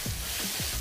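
Chicken chow mein noodles with sauce sizzle steadily in a hot wok, a close, continuous hiss broken by a few soft stirring scrapes as the noodles are tossed.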